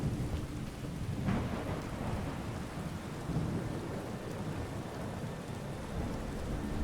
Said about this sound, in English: where it's still raining like crazy